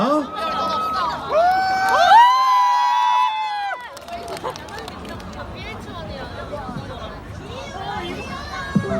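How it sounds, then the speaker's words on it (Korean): A university festival crowd cheers and shouts as a graduating student comes on stage to sing, a busy hubbub of excited voices and whoops, with one loud rising shout early and chatter continuing throughout. "우리 이욱 학생 무대 위로 올라올 때 큰 박수 부탁드리도록 하겠습니다"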